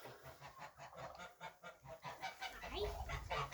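Geese honk repeatedly in a noisy, overlapping chorus, loud and close, with rapid uneven calls throughout.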